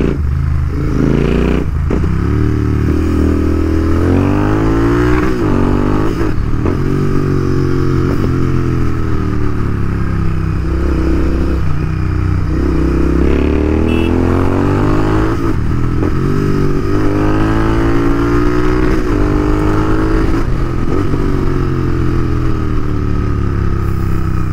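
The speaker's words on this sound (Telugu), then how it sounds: "So yeah sorry Raghava for riding your bike like an absolute bitch." A limited edition Royal Enfield GT650 motorcycle is ridden hard, its engine loud and constant with repeated rising revs through the gears and throttle blips, heard close with steady wind noise.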